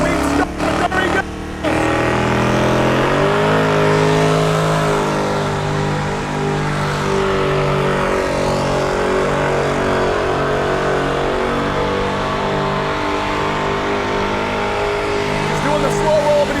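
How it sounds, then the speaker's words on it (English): A drag car does a burnout in a pit at a Duct Tape Drags and Vice Grip Garage event, its engine revving hard with strong, steady harmonics over tire spin. The sound is loud and continuous, with crowd noise and talk around it. "It looks like he's not having trouble with the horsepower to keep the tires spinning"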